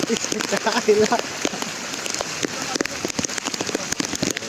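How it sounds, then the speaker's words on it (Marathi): Heavy rain pouring down on the Panhala to Pawankhind trek, a dense patter of drops striking surfaces close by, with a person's voice briefly mixed in early on. "लय मोठा पाऊस पडलाय."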